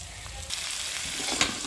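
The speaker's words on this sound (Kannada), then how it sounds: "ಇದ್ರ ಜೊತೆಗೆ ಅನ್ನ ಕಲಸಿಟ್ಕೊಳ್ಳೋದು" Cooked rice mixed into a hot fenugreek-leaf and lemon tempering in a pan, a soft close sizzle with stirring scrapes and one sharper clink near the end, no talk.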